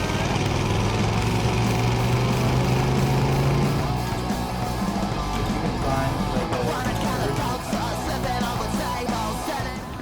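Ford flathead V8 hot rod engine runs loud and close, a steady rumble that then shifts into a rougher, busier revving sound with faint voices in the background.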